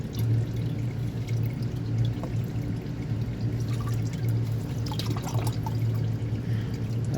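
Old, dirty transmission fluid pours steadily from the removed filter pan of a Chrysler Town & Country minivan, a continuous liquid splashing and trickling with faint drips, close by and alone.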